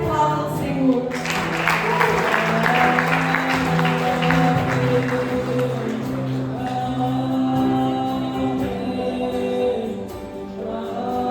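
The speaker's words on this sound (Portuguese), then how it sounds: "Você aplauda o Senhor." Church congregation clapping together through most of the stretch, with singing and music carrying over it throughout, fairly loud and steady.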